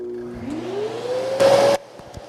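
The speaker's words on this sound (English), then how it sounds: "And I'll turn on the vacuum." A vacuum motor spins up with a rising whine, roars loudly for a moment with a harsh burst, then cuts back to a lower hum.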